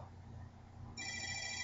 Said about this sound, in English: I'm not answering the damn phone.